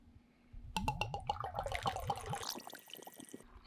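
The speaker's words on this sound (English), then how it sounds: "Oh yeah, pouring all that in there." Whiskey pours through a funnel into a barrel outdoors as a steady, close splashing stream that starts abruptly, runs for about two seconds and then trickles off.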